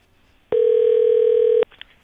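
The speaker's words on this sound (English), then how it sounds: "Nobody's going to answer that phone, I can tell you." Telephone ring heard during a Barbados morning radio show, a single steady electronic tone lasting about a second, loud and clean against near silence, followed by a faint click.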